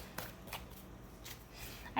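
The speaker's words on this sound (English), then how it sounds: "I think it's better personally when the shuffling's on camera" Tarot cards are shuffled softly by hand, giving a few quiet riffling swishes in an otherwise hushed room.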